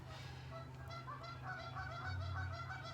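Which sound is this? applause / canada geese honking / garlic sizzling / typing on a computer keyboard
canada geese honking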